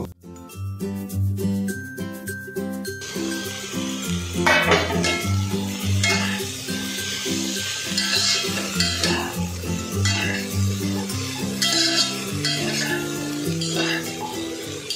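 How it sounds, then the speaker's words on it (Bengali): Broccoli, carrot and green chili frying with chicken in a pan for kabsa, a steady sizzle broken by stirring scrapes and light clinks of utensil on metal, heard close under music. "প্রথমে ব্রোকলি দিলাম, দেন তারপর গাজর আর কাঁচামরিচ দিয়ে কিছুক্ষণ ফ্রাই করে নিব।"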